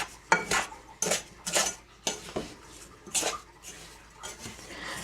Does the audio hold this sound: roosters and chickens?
no